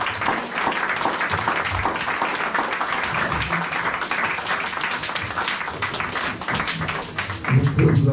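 A church congregation applauds with dense, continuous clapping that carries on for several seconds, fading slightly near the end as a low voice rises underneath.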